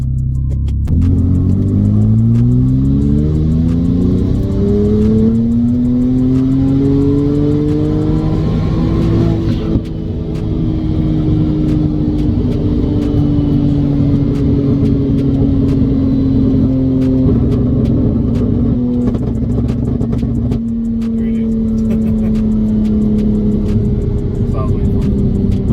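A turbocharged car running on E85 fuel pulls hard through third gear, its engine droning loud and steady as the pitch climbs and then holds high and strained, heard from inside the cabin for the whole pull.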